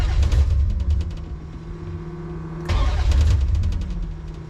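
A Gen III HEMI V8 with a rough idle is revved twice, each burst a loud, close, ragged roar that falls back to an uneven, lumpy idle between them, with no talk.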